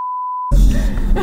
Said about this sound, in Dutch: Zet het alarm nu uit.